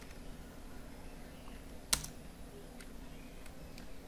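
Computer keyboard keys pressed for a Ctrl Shift Enter shortcut: one crisp click stands out over low room noise, with a few fainter taps around it.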